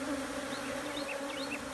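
Honeybees buzz close by in a dense, steady hum, with individual bees whirring past now and then.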